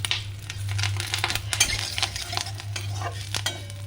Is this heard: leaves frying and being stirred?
yes